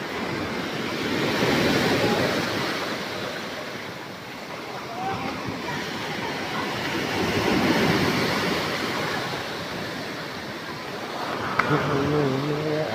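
Strong sea waves surging and overflowing onto the shore during Typhoon Ramil with heavy rain, a continuous loud roar of surf swelling and easing in long waves, with faint voices near the end.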